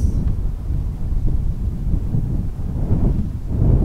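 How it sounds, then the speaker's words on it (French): Strong wind roars in low, continuous gusts that build toward the end, rumbling close against the microphone. "Le vent continue de souffler de plus en plus fort."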